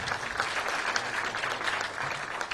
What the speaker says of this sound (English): Another round of applause, kindly.